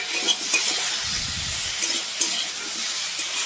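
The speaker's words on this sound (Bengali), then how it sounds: "একসঙ্গে পটল আর আলু একসঙ্গে ভেজে নিয়েছি" Pointed gourd and potato pieces frying together in a pan, a steady broadband sizzle with a short burst of lower stirring clatter midway, close and continuous with no talking.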